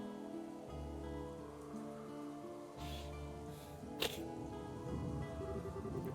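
Steady rain in Trails in the Sky the 3rd, a continuous wash of falling drops with low game music underneath and a sharp brief splash partway through.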